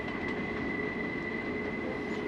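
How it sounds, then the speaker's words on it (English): Train winding through the mountain at Kicking Horse Pass, a steady distant rumble of rolling rail cars with a faint sustained wheel squeal running throughout. "to see this one train travelling in several different directions at once as it winds its way through the mountain"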